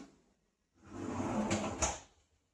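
A small soft-close drawer under the oven space of a fitted kitchen cupboard slides shut, a soft rolling rumble that ends in a gentle cushioned thud, with no slam and quiet before and after.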